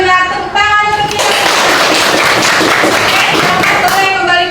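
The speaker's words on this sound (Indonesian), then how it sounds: "Tepuk tangan untuk kita." A sixth-grade classroom of students bursts into applause after a quiz: a dense, sustained clapping that starts about a second in, holds steady, then ends abruptly, with brief voices at either end.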